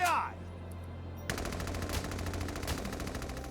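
Video game gunfire in Valkyria Chronicles 4 during a battle: after a brief quieter moment, a sustained rapid machine-gun burst rattles on loudly and continuously to the end.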